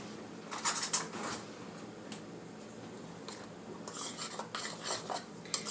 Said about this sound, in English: Let me give these a good stir.